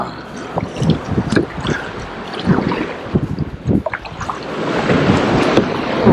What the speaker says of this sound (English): I think if I'm closer to the rocks, then it's more waves because they hit the rock and come back.